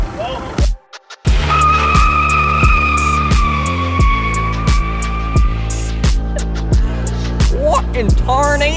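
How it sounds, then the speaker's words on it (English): An Audi with DSG gearbox, built as a sleeper, doing a burnout: loud close engine roar with rhythmic revving pulses, a long sustained tire squeal through the middle, a brief near-silent gap early on, and voices talking over it. "let's go cook these tires"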